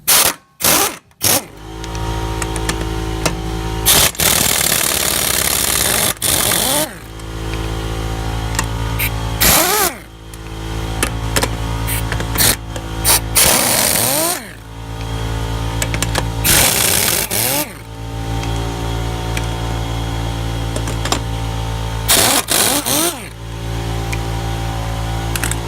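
An impact wrench takes a wheel off a 1999 Infiniti QX4 during a front brake pad job, running in loud, sustained whirring bursts with brief stops between them.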